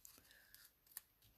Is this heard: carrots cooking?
no